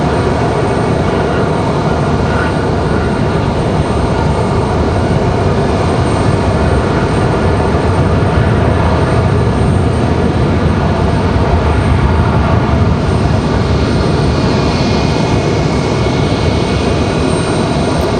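A JetBlue jet airliner at Raleigh-Durham airport produces a loud, steady, broadband engine roar that stays close and constant throughout, with no voices.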